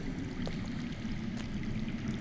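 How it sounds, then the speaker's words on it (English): Underground water in the Game of Thrones Telltale video game, a continuous soft rushing flow like a hidden stream or pouring trickle, steady and moderately quiet, with no voices. "That's water. I hear water. From underground."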